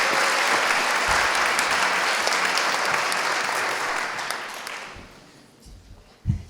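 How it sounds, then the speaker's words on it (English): Hearty applause from the audience at a school spelling bee, thick clapping that holds for about four seconds, then thins and dies away, followed by a couple of faint thumps. "Let's give them a round of applause."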